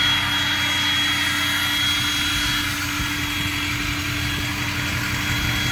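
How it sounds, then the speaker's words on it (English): A 2007 Ford F350 Powerstroke pickup truck with a 4-inch exhaust idles with a steady, deep engine rumble without a break, loud and close, with a low exhaust drone. "It's got a nice 4-inch exhaust on it. It sounds really good."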